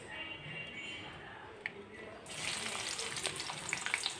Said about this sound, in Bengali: তো এখন ডালটা বাগার জন্য যে কড়াইতে তেল দিয়ে দিলাম